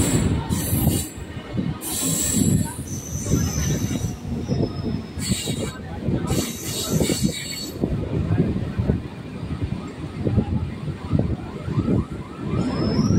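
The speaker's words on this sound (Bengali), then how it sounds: "আমাদের ট্রেন কিন্তু যাবে সোজা।" A local train runs from Sealdah towards Dhakuria, wheels clattering rhythmically and squealing on the rails throughout, heard loudly from inside the carriage.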